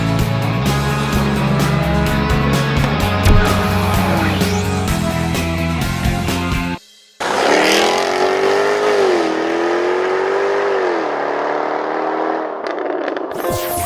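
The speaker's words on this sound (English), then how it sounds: "So it's a hot rod Maserati. Yep, we just turned it into a hot rod" A hot rod Maserati Biturbo in the Forza racing game revs hard. After a brief silent cut, the engine holds a sustained, rising and falling high-rev drone up close.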